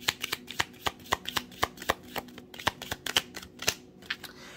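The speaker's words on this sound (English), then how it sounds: "So let's get one more shuffle from this deck" A deck of tarot cards is shuffled in quick, crisp riffles and taps, a close, fairly quiet run of rapid papery snaps with no talking.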